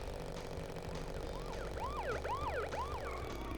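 Wailing police car sirens in Crash Bandicoot: Warped, several overlapping rising-and-falling tones sweeping loudly over a steady rumbling game background with engine noise.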